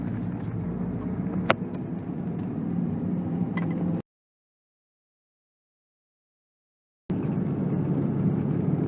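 A car engine and road noise hum steadily while driving on a snowy mountain road, low and continuous with one sharp knock, then break off in a gap of silence before resuming.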